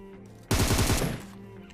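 A short, loud burst of rapid automatic gunfire in the video game PUBG, a rattling string of close shots that fades into a quieter tail.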